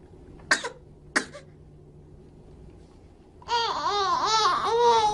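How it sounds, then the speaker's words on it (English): Two short, breathy fake coughs from a baby in quick succession, followed by a stretch of babbling or whiny vocalizing. "she does a fake cough with her mother."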